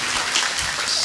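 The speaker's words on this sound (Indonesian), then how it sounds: "sekarang tepuk tangan dulu, tepuk tangan dulu." Congregation applause at a religious gathering with a national champion Quran reciter, a dense, steady wash of clapping filling the short moment, near and fairly loud with no talk over it.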